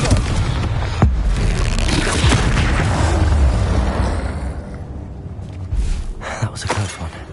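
Confringo fire spell blasting in Hogwarts Legacy, a loud booming impact with a crackling rumble that swells and lingers, followed by scattered smaller bursts and thuds as the fight continues.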